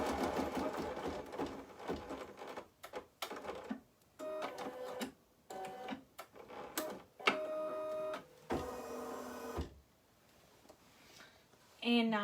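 An embroidery machine stitches a tack-down line on gray snowflake fabric, running in bursts of rapid mechanical whirring with short pauses between runs, close and fairly loud, with speech over parts of it.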